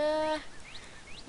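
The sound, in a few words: birds chirping in a modded video game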